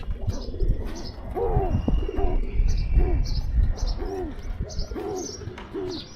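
Pigeons coo repeatedly nearby in a home loft, their rolling calls recurring every second or so over a busy background with faint chirps.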